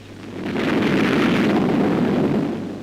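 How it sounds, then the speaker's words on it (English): A mortar shell blast near landing barges at Iwo Jima in 1945 swells into a loud, deep rolling boom that lingers for a couple of seconds before fading. "From rocky positions, enemy mortars shell our landing barges."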